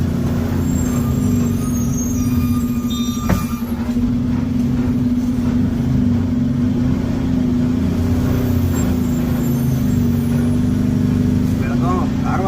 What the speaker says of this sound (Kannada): ಎಷ್ಟು ನಿಧಾನ ಹೋಗ್ತಿದೆ, ಇಂಜಿನ್ ಬ್ರೇಕ್ ಆನ್ ಮಾಡಿದ್ದೀನಿ ಇವಾಗ.